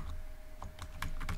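Quiet keystrokes on a computer keyboard while Python code is typed, a handful of light taps in a loose rhythm over a steady faint hum.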